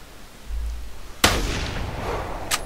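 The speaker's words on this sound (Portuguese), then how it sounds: "Primeiro disparo." A rifle fires a single sharp, loud shot at an Alpine ibex in the hunting game The Hunter, the crack trailing into a reverberant rumble. A fainter second report follows about a second later.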